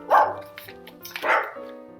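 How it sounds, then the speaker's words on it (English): A pet dog gives two loud barks about a second apart, close by indoors, with quieter faint sounds in between and no speech. "That's my dog."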